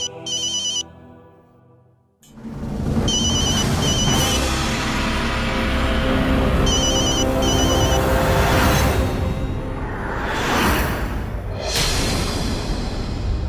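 A phone ringtone sounds nearby, a repeating electronic melody in short bursts, loud over a full bed of dramatic background music in a TV drama scene.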